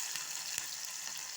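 Onions and green chillies frying in a pan, giving a steady close hiss of sizzling with a faint stir-like scrape partway through, no voices.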